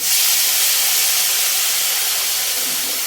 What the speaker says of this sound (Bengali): এক কাপ গরম জল দিয়ে দেবো।